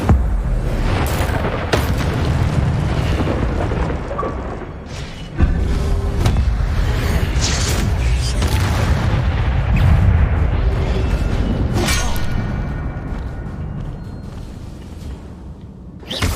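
The Incendio fire spell in Hogwarts Legacy goes off as loud booming bursts over constant heavy combat noise, with sharp blasts near the start, middle and end.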